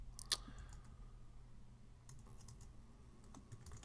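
Someone types a keyword on a computer keyboard: a sharp click up front, then faint scattered keystrokes over a low room hum, no speech.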